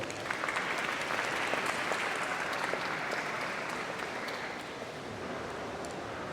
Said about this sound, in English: Let's give another round of applause for Seema